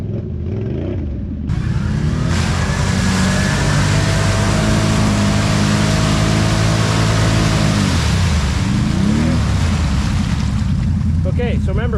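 A Can-Am Outlander 570 XMR ATV engine revs hard and steadily while churning through deep mud, a loud sustained roar close by that rises sharply after a quieter start and holds throughout.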